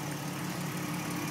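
Six-cylinder engine of a 2006 Jeep Wrangler Sport four-wheel-drive automatic idling steadily nearby, a continuous hum with slight belt noise.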